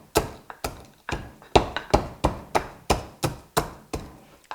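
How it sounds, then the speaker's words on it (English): Ingredients are crushed in a mortar and pestle, about ten sharp, close thuds landing in a steady, slightly uneven pounding rhythm with no talk. "My handy mortar and pestle."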